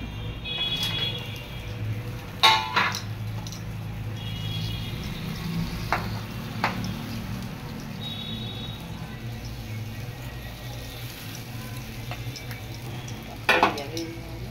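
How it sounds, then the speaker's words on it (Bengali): Fish added to spice gravy in a pan and stirred, a low steady frying hiss with occasional clinks of a utensil against metal, close by, with people talking at times. "এবারে আমি মাছ দিয়ে দিলাম, দেখুন"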